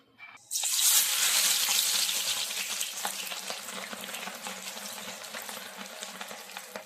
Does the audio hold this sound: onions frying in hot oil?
yes